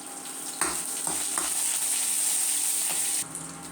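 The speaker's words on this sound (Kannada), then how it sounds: "ಸ್ವಲ್ಪ ಕರಿಬೇವಿನ ಎಲೆಗಳನ್ನ ಹಾಕೋಣ. ಸ್ವಲ್ಪ ಹಸಿಮೆಣಸಿನ್ಕಾಯಿ ಹಾಕೋಣ." Curry leaves and finely chopped green chillies hit hot oil for a pumpkin dish, making a bright continuous sizzle with a few stirring knocks and scrapes, close and loud with no voices.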